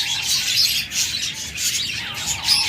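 Budgerigars and cockatiels in a breeder's cage chatter in a dense, continuous flock of high squawks and chirps that swell and dip close by, with no talking.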